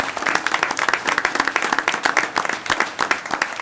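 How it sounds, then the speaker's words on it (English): A room of attendees at a village board meeting claps to honor an Eagle Scout. The applause is dense and continuous, steady throughout with quick irregular claps close by. "Let's give a round of applause to honor Michael Schmid, Eagle Scout."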